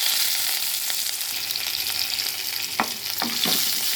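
Fenugreek powder and curry leaves frying in hot oil, a continuous bright sizzle with a few sharper crackles and stirring scrapes near the end, close and steady with no talk.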